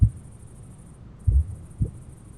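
A muffled, deep heartbeat thumps three times at a slow, uneven pace, heavy and close under a faint high whine.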